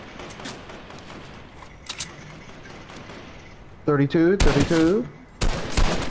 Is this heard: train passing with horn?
no